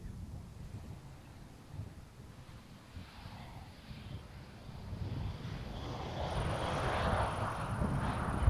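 An airliner lands on a windy day at Amsterdam Schiphol airport with a long wheelie, heard as a distant low rumble of jet engines that slowly grows louder and broader toward the end over gusty background noise.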